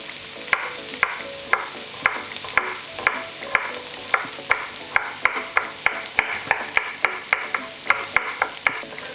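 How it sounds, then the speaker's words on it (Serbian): Onion softens in a frying pan with a soft sizzle as a utensil scrapes and taps against the pan in a steady rhythm, close and clear with no talk. "Luk ću propržiti dok ne omekša."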